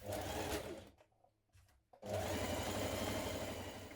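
A sewing machine stitches the shoulder seams of a spring top with a 1.5 cm seam allowance, giving a steady close whirring run that stops for about a second before resuming just as loudly.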